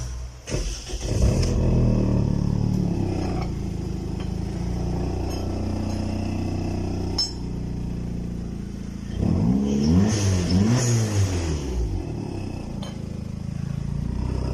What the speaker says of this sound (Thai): เบิ้ลให้ฟังเสียงหน่อย อันนี้เป็นเทอร์โบนะครับ